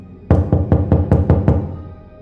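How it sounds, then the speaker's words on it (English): Seven evenly spaced knocks strike a door, loud and close, each hit sharp with a short ring that fades after the last. "Then they knocked."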